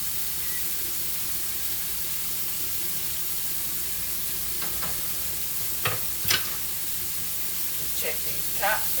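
Pork chop strips fry in a pan over a burner turned down to medium-low, giving a steady, soft sizzle throughout, with a few sharp utensil clicks and scrapes near the end.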